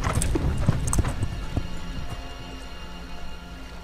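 Horse hooves clip-clopping in the video game Eventide 2: Sorcerer's Mirror on Xbox One, a quick run of close, distinct hoof clops that thin out and fade over a few seconds.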